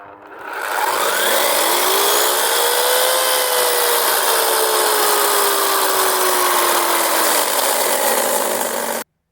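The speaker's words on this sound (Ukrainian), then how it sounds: "пилка електро непогана штука. Я її зараз включу." An electric chainsaw cuts through oak stumps, running loud and steady for nearly the whole stretch, its motor pitch rising and then slowly sagging under load before cutting off abruptly at the end.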